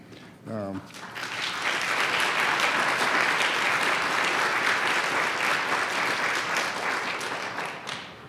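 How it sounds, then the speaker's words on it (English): An audience at a diversity forum keynote breaks into loud, sustained applause right after a brief spoken word, and the clapping holds steady until it fades at the close. "as long as you're clapping"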